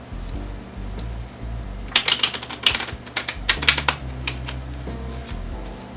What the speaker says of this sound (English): we're going to give the cards a shuffle.